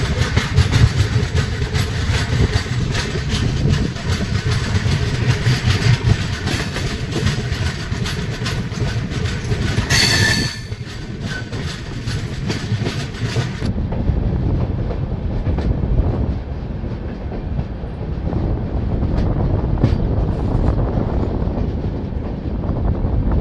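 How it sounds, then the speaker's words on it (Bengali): A train eases out of Manikpur station after light rain, heading toward Jhansi on the Howrah–Agra route, with close, continuous rolling rumble and rhythmic clickety-clack of wheels on rail and a brief sharp screech partway through. "ধীরে ধীরে ট্রেন মানিকপুর স্টেশন ছেড়ে বেরিয়ে যাচ্ছে।"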